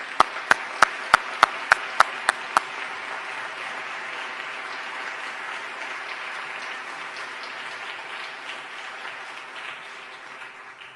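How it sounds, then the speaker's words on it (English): Audience applause at an annual arts prize awards ceremony in Cleveland, opening with a few sharp isolated claps before settling into steady, sustained clapping from a sizeable crowd that slowly thins toward the end. "we'd like you to celebrate one another with applause at this moment."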